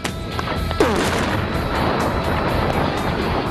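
A cement truck packed with 850 pounds of ANFO blows up, a loud, dense boom that swells into a long rumbling roar and debris-filled wash, staying heavy and sustained throughout.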